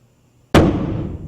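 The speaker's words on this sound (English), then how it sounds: "a relatively mild explosion, as the hydrogen reacts with oxygen in the atmosphere" A hydrogen-filled balloon is ignited: a single sharp bang goes off after a short silence. It is loud and near, and a rumbling tail fades over the next second.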